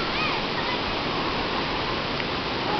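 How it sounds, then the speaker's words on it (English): Tawangmangu waterfall near Solo, Central Java, roars as a steady, loud, unbroken rush of falling water. "This is Tawang Mangu Waterfall near Solo, Central Java."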